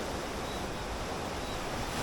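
Rough sea on the Jamaican coast after Hurricane Beryl, a continuous roar of surf and gusting wind buffeting the microphone, steady and close with no talk.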